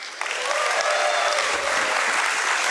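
A crowd at a stock-exchange listing ceremony breaks into loud, sustained clapping with cheering mixed in, rising quickly and holding at full strength throughout.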